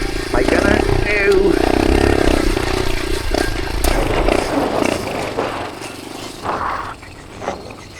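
A dirt bike engine ridden across the desert, a loud rasping roar that rises and falls with gear changes and bumps, with a rider talking over it and wind noise.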